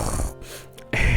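A voice imitates a man snoring, giving a short nasal snort-like rasp that drops into a brief quiet gap and then returns louder.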